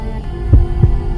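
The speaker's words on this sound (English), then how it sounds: "Ramona's heartbeat quickened." A heartbeat sound effect quickening in a psychological horror piece: two deep, booming thumps heard close and loud over a low, steady hum, with no voices.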